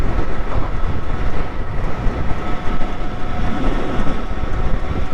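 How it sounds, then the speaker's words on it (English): A train passes on railway tracks below, giving a continuous, dense rumble with clickety-clack texture. It is partly blended with wind roar from a rider on an electric bobber motorcycle. "Train tracks. Oh shit, there's a train down there."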